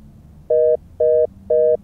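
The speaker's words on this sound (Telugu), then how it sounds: "ఇదేంటి కాల్ కట్ అయిపోయింది" A phone line tone sounds after a call is cut off: three identical short electronic beeps, evenly spaced about half a second apart, clear and close with no talking.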